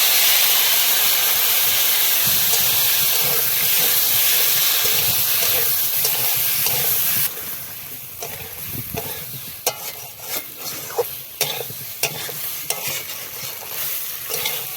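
Hot pan of fried small potatoes and ground coriander, cumin and dry chili paste hissing loudly in a sustained steam roar, then quieter sizzling with sharp stirring scrapes and clacks.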